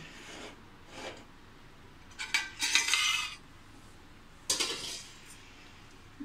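Soft metallic scrapes and clinks of a knife pushed into and drawn out of a steamed kharvas colostrum pudding, in a few short bursts, close by.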